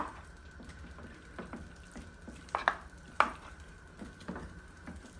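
Food is stirred in a cooking pot with a spoon, heard as quiet repeated scrapes and a couple of sharper metallic knocks over a soft background simmer, with no voices.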